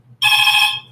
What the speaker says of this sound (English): We got another phone call.